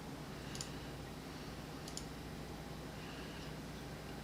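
A few quiet, sharp mouse clicks spaced apart while selecting material options in Revit, heard alone against a faint steady hum.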